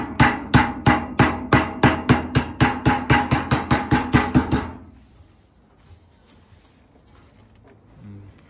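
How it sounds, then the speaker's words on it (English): Hammer tapping a square metal downspout with contemporary gutter, a steady run of about eighteen sharp, ringing metallic strikes close by, then stopping into quiet room noise. "we can use a hammer to straighten it up"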